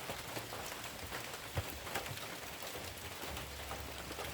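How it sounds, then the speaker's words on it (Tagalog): Light drizzle falls steadily on an open farm plot among ripe saba bananas and a corn crop, a soft, even hiss of fine drops with a few faint ticks of heavier drops and no speech. "Ay, naulan po oh."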